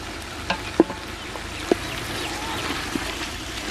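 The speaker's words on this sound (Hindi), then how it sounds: "अभी सब्ज़ मिर्च और टमाटर को भी अच्छी तरह भून लेंगे" Tomatoes and green chilies frying with ginger-garlic paste in a village kitchen, a steady low sizzle with a few sharp stirring clinks and scrapes against the pan.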